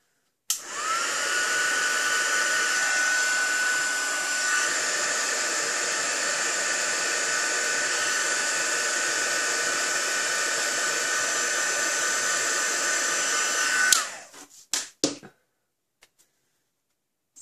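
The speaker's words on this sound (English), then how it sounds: "And now once I've heat set it, it will be loads better, trust me." A heat tool blows hot air to set the ink on a stamped card, a loud steady whooshing drone that runs about thirteen seconds. It cuts off abruptly, followed by a few brief knocks.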